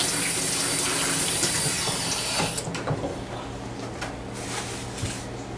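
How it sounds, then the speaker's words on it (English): Tap water runs steadily over zucchini being rinsed before it is cut up as turtle food, a constant splashing stream that thins out partway through, leaving softer trickles and a few light knocks. "We'll rinse that off real nice."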